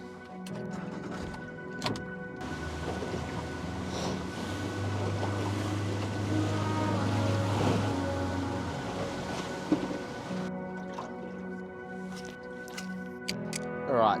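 A motor boat running back to the start of a drift while fishing for snapper, its engine a steady hum over water with wind and hull noise, a voice talking over it.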